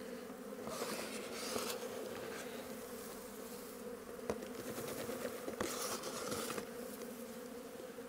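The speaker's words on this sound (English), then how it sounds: "the bees that are not flying are probably nurse bees" Honey bees hum around an opened hive during January hive work, a soft continuous buzz with individual bees droning past now and then, faint and steady throughout.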